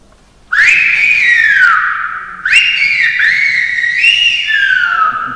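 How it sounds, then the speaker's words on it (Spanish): Whistled Silbo language from Gran Canaria, loud and close with no talk over it: long melodic whistles rise and glide downward in three connected phrases, each starting with a sharp onset and sliding in pitch. "Escuchando el silbo de Gran Canaria en directo"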